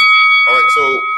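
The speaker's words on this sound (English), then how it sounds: "I'm actually intending to hit the bell for Rude Dog" A bell struck on a boxing talk live stream gives a bright sustained ring, with a voice talking over the ringing tone.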